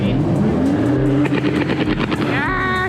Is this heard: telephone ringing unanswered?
no